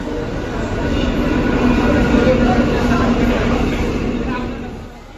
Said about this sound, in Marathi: काय ना आपली ट्रेन आलेली आहे.